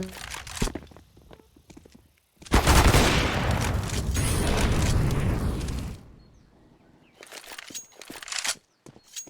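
Grenade blasts in a Counter-Strike match on the Inferno map: a sustained, loud wall of explosive noise for several seconds, with scattered shots and clicks before and after.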